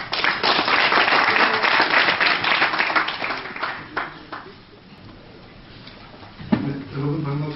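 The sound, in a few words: audience applause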